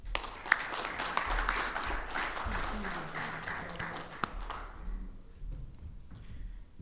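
An audience applauds at a 2020 Marine Corps logistics awards ceremony: dense clapping fills the room for about five seconds, then thins and fades out.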